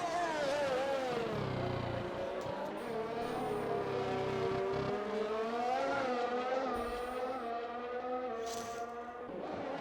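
A McLaren race car in a sim racing game screams past at full throttle, its engine note rising and falling steadily through gear changes, loud and continuous with no talking.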